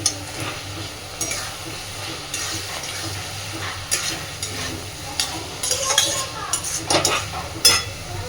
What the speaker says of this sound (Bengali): আলুটাকে মশলার সাথে মিনিট 2 কষিয়ে নিয়েছি।